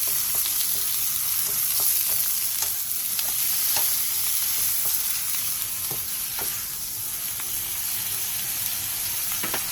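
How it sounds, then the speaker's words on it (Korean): Thin-sliced pork belly and garlic stir-frying over high heat, a loud, constant sizzling hiss with intermittent light stirring taps, close up and without any voices. "마늘이 어느 정도 노릇노릇해졌으면 대패 삼겹살을 넣고 센 불에서"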